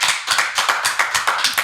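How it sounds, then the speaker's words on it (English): Loud, close rhythmic clapping at a comedy night, sharp even claps about six per second in a steady beat, with no voices over them. "should we give it a round of applause?"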